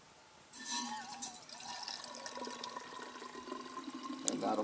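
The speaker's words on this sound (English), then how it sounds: "I can start pouring it into my bottle" Water poured from a pot into a bottle at an overnight campsite: a steady close splashing trickle with a rising gurgle as the bottle fills, and no talk.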